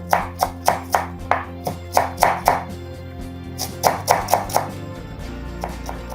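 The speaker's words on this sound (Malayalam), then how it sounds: "ഇത് ഫൈൻ ചോപ്പാക്കിയിട്ട് തന്നെ അരിഞ്ഞ് മാറ്റി വെക്കാം" Coriander leaves being finely chopped with a knife on a board, a run of crisp, evenly spaced blade taps in two bursts separated by a short pause, close and clear with no talk.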